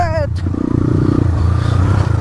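An enduro motorcycle rumbles close by on a rough off-road track with a pulsing low engine note and some clatter. A voice speaks briefly at the start.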